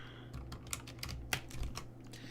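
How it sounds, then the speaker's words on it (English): Fingers type on a mechanical computer keyboard, close and clear, producing a quick irregular run of sharp individual key clicks over a low steady hum. "my return button keeps popping off my mechanical keyboard here"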